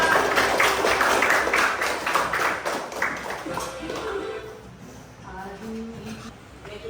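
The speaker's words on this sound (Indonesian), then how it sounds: "Tepuk tangan buat kita semua" Classroom clapping during an Indonesian lesson: a burst of many hands clapping together, loud and fairly close for about four seconds, then fading as voices and talk take over.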